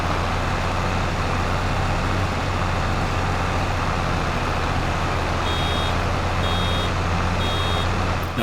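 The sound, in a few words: baler capacity alarm beeping in Farming Simulator 22 video game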